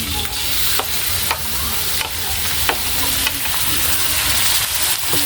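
Meat sizzling and frying in a pan for a Filipino sautéed bean dish, a steady close hiss broken by a few sharp spatters and occasional stirring clinks.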